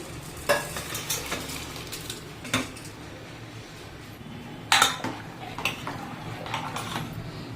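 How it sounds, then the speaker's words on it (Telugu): Rice tipped into a pot of boiling, oiled water while making dum biryani: a few sharp metallic clinks and scrapes from the pot and spoon over a steady low bubbling and hiss, with no talking. "ఇప్పుడు ఈ రైస్ కూడా ఇందులో వేసేస్తున్నానండి"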